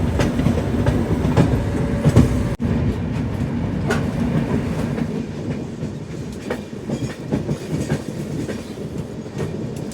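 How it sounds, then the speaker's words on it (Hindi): The Amritsar Mail passenger train pulls out, its wheels clicking rhythmically over rail joints in a steady rumbling clickety-clack, fairly close, with a brief sharp thump early on. "और सामने अमृतसर मेल भी खुल गई है।"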